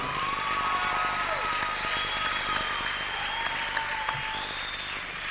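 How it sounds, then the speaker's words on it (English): Crowd at a boxing event applauding both fighters before the judges' decision, moderate clapping and crowd noise across the arena beneath tonal music or hum, fairly steady throughout. "big round of applause for both fighters"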